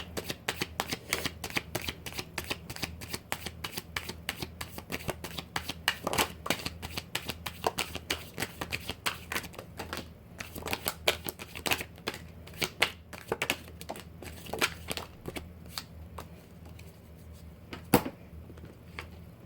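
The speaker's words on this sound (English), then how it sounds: "I'm going to start pulling some cards here" Tarot cards being shuffled continuously, a dense run of crisp riffling and flicking snaps at close range with no talking.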